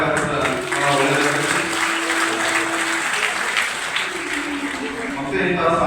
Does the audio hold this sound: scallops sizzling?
no